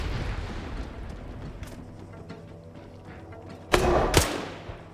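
Grenades go off in a tactical shooter match: two loud, close blasts in quick succession near the end, over a low rumbling game background.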